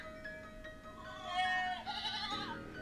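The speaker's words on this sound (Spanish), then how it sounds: "escuchó el ruido y vio la sombra de una cabra." A goat bleats once in a wavering, nasal cry, fairly close, against a quiet background.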